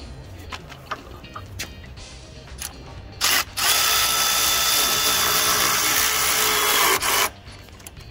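Power tool loosening the mounting bolts on an RC 5500 DC hydraulic pump motor: several short bursts, then a loud sustained whir of about four seconds, close up.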